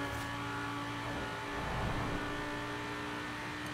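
Engine of a TVR Griffith sports car in the racing game Forza Horizon 4, a steady droning engine note with a brief swell midway, heard alone at moderate, even loudness.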